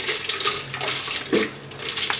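Water poured into a mixer jar of soaked split green moong dal, ready for grinding into chilla batter, making a steady splashing trickle with a brief louder gush midway.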